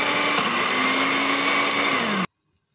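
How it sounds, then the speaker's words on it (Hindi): A blender grinds pieces of bread into breadcrumbs with a loud, steady high whir for about two seconds before cutting off abruptly into silence. "ब्रेड लेके उसके छोटे छोटे पीसेस कर लें और इसको अच्छी तरह से ब्लेंडर में डाल के तो इसके क्रम्स बना लें।"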